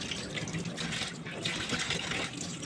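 Tap water runs steadily and close while galunggong fish are rinsed in a kitchen sink, a continuous splashing rush with no talking.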